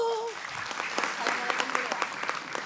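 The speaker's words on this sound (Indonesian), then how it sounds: "Tepuk tangan dong." Applause breaks out from a studio audience at an Islamic religious talk show, many hands clapping steadily and fairly loud, with a brief voice at the very start.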